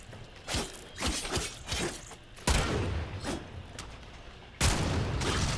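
Redeemer gun in the video game Warframe firing, with bursts of sharp blasts and a series of quick rattling impacts between them, loud and punchy.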